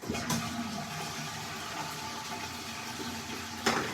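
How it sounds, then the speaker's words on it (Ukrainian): A toilet flushing in a bathroom during cleaning, a steady rushing of water running for several seconds, with a sharper surge near the start and another burst near the end. "Унітаз."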